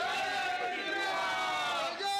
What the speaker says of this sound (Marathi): पुण्यामधील पुरोहित समर्थकांकडून घराबाहेर जल्लोष केला जातो आहे